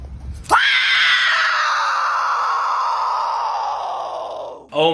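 A haunt actress playing the warden's wife at a haunted attraction lets out one long, loud, blood-curdling shriek that holds steady for several seconds and then cuts off abruptly.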